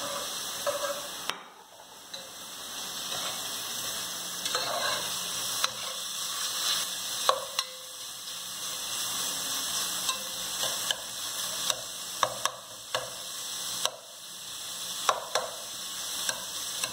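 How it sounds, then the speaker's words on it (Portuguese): Bacon frying in a pan as a filling for a deboned chicken, a steady close sizzle and hiss running throughout, broken by repeated scraping knocks of a stirring utensil, with no talk. "Isso aqui no caso do bacon, né? É só uma misturadinha aqui, uma fritadinha, né?"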